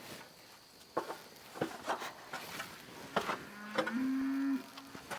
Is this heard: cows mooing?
yes